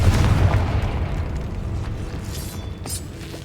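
The Confringo blasting spell in Hogwarts Legacy sets off a loud, deep explosion that booms at once and then rumbles and fades over a few seconds, with faint debris crackles in the tail.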